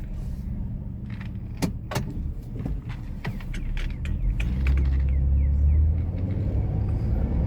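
A 2001 Ford Taurus with a newly installed transmission pulls away, its engine rumbling low beneath clicks, creaks and mechanical rattles from the cabin, fairly quiet and steady, growing a little louder toward the end.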